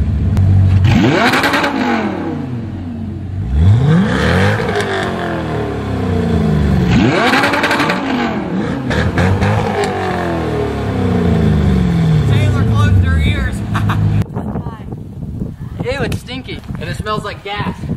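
Corvette and Audi R8 sports cars take turns in a rev battle, each throttle blip rising and falling in loud, sweeping roars repeated several times, with people talking between and over the revs.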